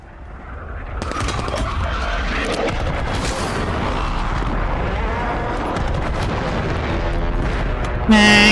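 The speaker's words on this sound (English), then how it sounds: "Mortar strike inbound now" Mortar rounds strike in a military shooter game, producing heavy, rumbling booms that pile into a sustained, loud barrage of explosions and crackling debris, with a brief sharper burst near the end.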